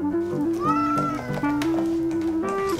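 A domestic cat meows close by in a long series of drawn-out, wavering cries that rise and fall in pitch, with no talking.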